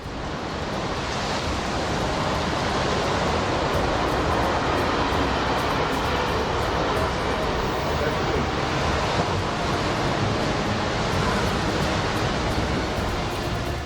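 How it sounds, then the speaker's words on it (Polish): Heavy storm surf roars continuously against a coastal train line, a dense wash of crashing waves with wind noise buffeting throughout; no distinct separate impacts stand out. "podczas sztormów fale potrafią uderzać bezpośrednio w pociąg"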